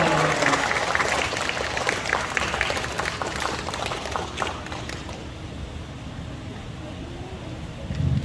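A church congregation at an evening retreat service claps to welcome a pastor, loud, dense applause for about five seconds that then thins and fades into quieter room noise with faint voices.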